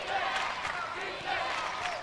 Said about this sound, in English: The crowd is really getting into it here as the finals drawn to a close